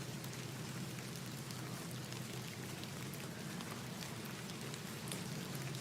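Steady rain in the video game The Excavation of Hob's Barrow: an even, continuous hiss of falling drops with a low rumbling undertone, with no voices and no breaks.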